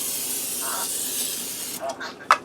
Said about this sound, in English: Now I'm going to take some vegetable spray and spray it in here.